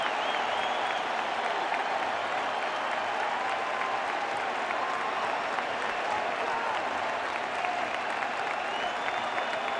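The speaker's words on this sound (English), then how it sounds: "Crowd trying to help him out." Crowd at Fenway Park during a Yankees-Red Sox playoff game claps and cheers steadily, a dense, sustained wash of applause and roar from thousands of fans filling the whole span.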